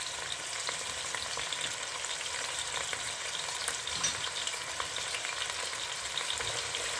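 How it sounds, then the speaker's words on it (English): Onions, ginger-garlic and cumin seed fry in a pan for chicken biryani, producing a continuous, even sizzle with light crackling, steady and close for several seconds with no speech. "So I'll let all this fry."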